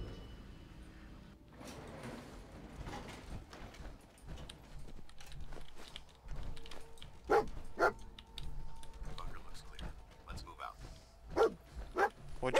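Dogmeat, the dog companion in the game Fallout 4, gives a scattering of short, sharp barks and yips over a quiet game soundscape, with a person talking at times between them.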